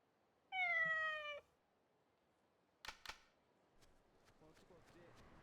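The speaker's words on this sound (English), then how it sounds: "And the cat that that guy is missing is here" A cat meows once in the Yakuza Dead Souls video game, a clear, close harmonic call, followed by a couple of sharp clicks and faint, scattered background game sounds.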